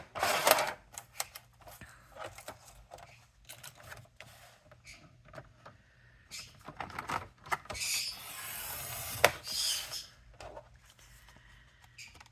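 Watercolor paper pages being trimmed make close, uneven bursts of crisp cutting and rustling, with brief pauses and a longer scraping pass near the end, quiet and with no talk.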